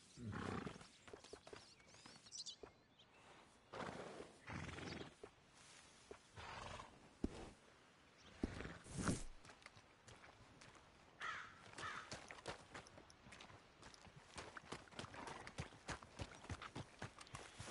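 Horse hooves clip-clopping in Red Dead Redemption 2, a quiet, irregular series of hoof thuds among faint outdoor ambience and occasional crow caws.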